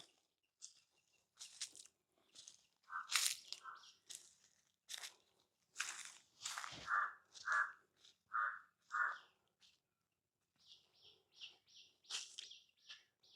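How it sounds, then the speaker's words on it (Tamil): Several birds call outdoors near a fenced former army camp with palmyra fronds on the ground, crow-like caws and chirps coming in short repeated bursts over about thirteen seconds, with quiet gaps between and no talking. "நிறைய பறவைகள் சத்தம் இருக்குது. பறவைகள் வந்து விதம் விதமான பறவைகள் எல்லாம் இருக்குது."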